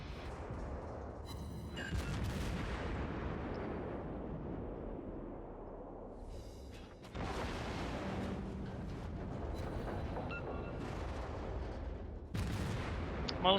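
Naval gunfire in World of Warships, an Atlanta firing during an Omaha-versus-destroyers match: dull booming salvos with rumbling tails, distinct bursts around two, seven and twelve seconds over a continuous low roar, no talk.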